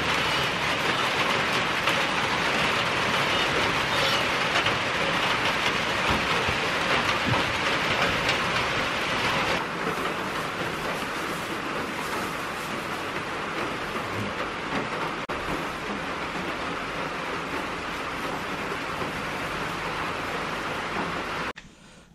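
Heavy rain pours down steadily on a farm, a dense, loud, continuous hiss that eases slightly midway and cuts off at the end.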